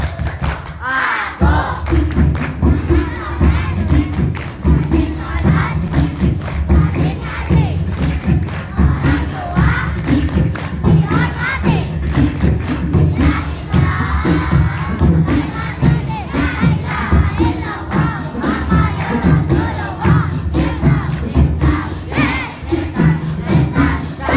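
Schoolchildren at an elementary school religious celebration chant in unison while clapping rhythmically, loud, close group voices with steady hand claps running throughout.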